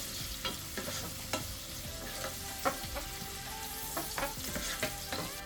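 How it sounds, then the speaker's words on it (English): Chopped onion frying in hot oil in a pan, a steady close sizzle broken by frequent scraping stirs, with no voices. "I'm going to fry my onion for about 2-3 minutes before adding anything else."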